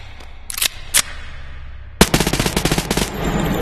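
Pistol shots from an Escape from Tarkov handgun in the VR game Bonelab: a few spaced single shots, then a fast, loud burst of about a dozen rapid cracks in close succession.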